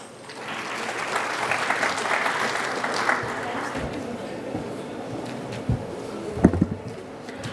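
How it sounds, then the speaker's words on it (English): Delegates at the International Galvanizing Conference 2019 applaud after a presentation, a brisk burst of clapping from a sizeable audience that swells quickly and then tapers off, with a few louder claps and bumps near the end. "A round of applause to thank Rajesh sir."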